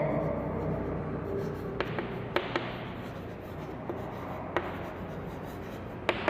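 A pen writes on paper during an accounting lesson, scratching and tapping in short bursts close up while a teacher speaks.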